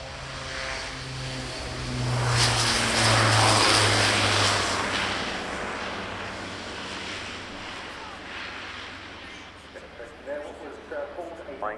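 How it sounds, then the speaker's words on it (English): An Airbus A400M military transport rolls for takeoff at the Royal International Air Tattoo, a broad, swelling turboprop roar that builds and then eases off at a distance, with an announcer talking over it. "On the roll, it's the Airbus A400M."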